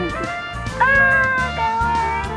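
A newborn kitten meows repeatedly from inside a wall where it fell after being carried up by its mother, with sustained high cries over a low rumbling background.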